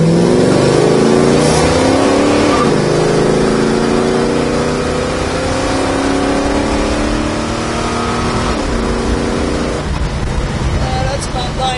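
A 1970 Chevrolet Chevelle SS with a cammed engine revving hard under way, a loud, continuous roar that climbs through repeated pitch sweeps as gears change, dominating throughout with speech underneath.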